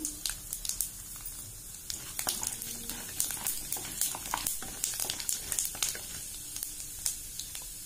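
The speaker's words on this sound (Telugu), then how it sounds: "ఆయిల్ వేడైంది కదండి ఇందులో ఇప్పుడు తాలింపు దినుసులు వేస్తున్నాను ఆవాలు జీలకర్ర సాయమినప్పప్పు అండి" Mustard seeds, cumin and dal crackle and sizzle in hot oil for tempering, a close, continuous popping spatter with irregular sharp bursts throughout.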